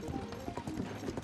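Horse hooves clip-clop steadily in Tears of the Kingdom as the mount walks along a path, a rhythmic run of close, moderately loud hoofbeats with a faint whinny mixed in.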